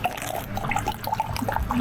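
Water pouring and splashing at a rest stop on a concrete-road cycling brevet, a steady running trickle that fills the whole stretch, fairly close and moderately loud.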